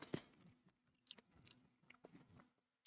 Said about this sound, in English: So about all the chewing noises.